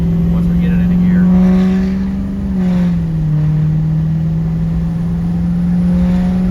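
Diesel truck with an aftermarket injector and FICM harness accelerating in gear, its engine drone loud and steady, dipping briefly before climbing again, with a voice talking over it.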